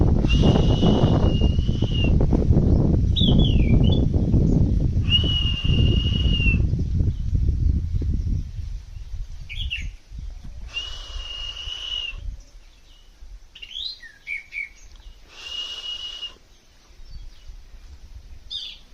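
A wild bird calls back from a distance in short, clear whistled notes repeated every couple of seconds, first over a rumbling windy background and then in near silence; some of the whistles may be a person imitating the bird.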